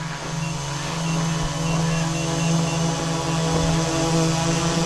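An orange Autel EVO 2 drone flies overhead with a steady, loud rotor drone and a strong low tonal hum plus layered harmonics, constant throughout with no talking.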